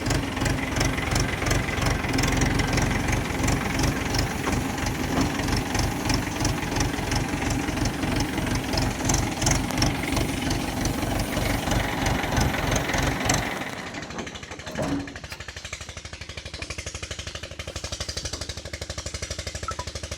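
A farm tractor's diesel engine runs close by with a loud, rapid rhythmic chugging, then drops to a lower, quieter idle after a brief clunk near the end.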